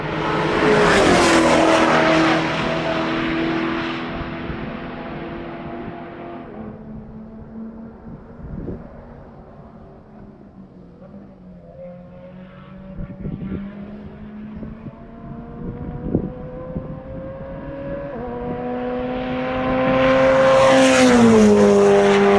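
Race cars lapping the Summit Point circuit, a GT500 among them: loud engine roar passes close at the start, fades to a distant drone with shifting revs through the middle, then another car swells up near and loud at the end.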